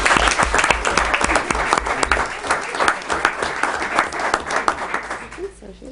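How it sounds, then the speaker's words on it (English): A school audience applauds a retiring teacher at a Board of Education meeting, steady sustained clapping that tapers off at the end. "So we could have a round of applause for Jeannie"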